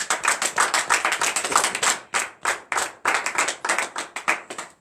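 Congregation at a morning prayer service in Benin clapping together in a brisk, steady rhythm, many hands sharp and close, sustained for several seconds without voices.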